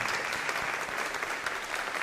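Steady applause from a school board meeting audience honoring science fair winners, dense and even clapping filling the room throughout without breaks.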